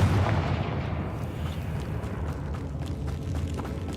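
The Confringo fire spell explodes in the Hogwarts Legacy video game with a deep boom at the start, followed by a rumbling, crackling tail that fades away over a few seconds.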